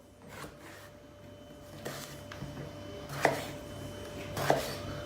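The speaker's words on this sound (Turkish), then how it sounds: "Patlıcanları doğrarken elma dilimi doğrayacağız." A knife chops eggplant on a cutting board in a few sparse, sharp taps, quiet and close, with faint kitchen ambience between cuts.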